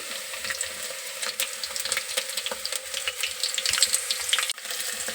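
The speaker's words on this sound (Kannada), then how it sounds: "ಎಣ್ಣೆಗೆ ಸ್ವಲ್ಪ ಉಳ್ಳಾಗಡ್ಡಿ ಮೆಣಸಿನ್ಕಾಯಿ ಫ್ರೈ ಆಗಲಿ" Onion and green chilli fry in hot oil for a masala dish, giving a continuous crackling sizzle broken by soft stirring scrapes, moderately close and with no voices.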